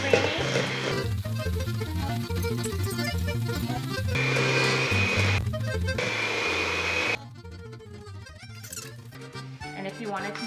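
Electric mixer beating cheesecake filling with cream cheese at medium-low speed, a steady whirring hum that changes pitch and load as it works, with someone talking over it at times.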